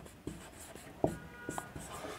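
Pen writing out a maths solution on paper, soft scratchy strokes and taps in short irregular bursts, close and quiet with no talking.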